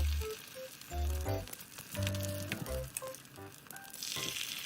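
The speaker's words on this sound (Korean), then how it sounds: "올리브 오일, 중약 불에서 달군 팬에 계란물 2스푼을 넣으세요" Beaten egg mixture, two spoonfuls, frying in a pan heated with olive oil over medium-low heat for egg gimbap, a soft sizzle under kitchen clatter and a few clunks, with music playing throughout.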